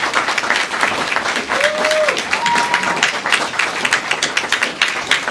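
Audience at a Capitol Hill advocacy day applauding a senator, sustained close clapping from a sizable crowd with brief tonal whistles or voices rising over it.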